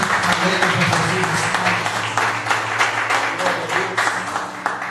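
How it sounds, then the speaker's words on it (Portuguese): A church congregation applauds after the sermon, steady clapping filling the room while a preacher's voice carries on over it. "Aplauda o Senhor."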